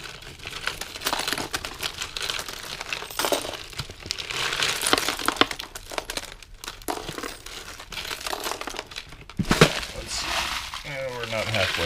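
Small glass beads and jewelry pieces rummaged through inside a barrel, producing continuous clicking, crinkling and rattling at close range, with occasional louder clatters and a voice talking over part of it.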